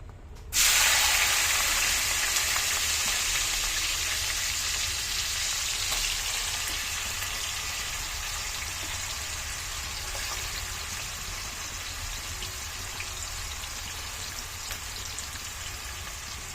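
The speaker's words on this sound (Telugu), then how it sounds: "ఇప్పుడు వచ్చేసి ఆనియన్స్ వేస్తున్నానండి" Chopped onions go into hot oil already spitting with cumin and mustard seeds, and a loud, close sizzle bursts out at once. The crackling hiss holds steady and eases off slowly, with no one speaking.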